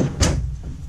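A drawer in a 2018 Fleetwood Bounder 36F motorhome slides open with a short wooden rumble and a soft knock, close by.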